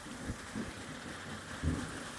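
Rain hisses steadily during a rain and hail storm while low thumps and a deep rumble of distant thunder roll under it.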